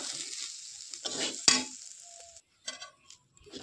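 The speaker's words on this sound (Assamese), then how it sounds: "নাৰিকলখিনি ৰস নোহোৱাকৈ ভাজি ল'লোঁ।" Grated coconut is dry-roasted in a pan and stirred, giving soft scraping rustles and a sharp clink of the spoon against the pan, with short quiet gaps between strokes.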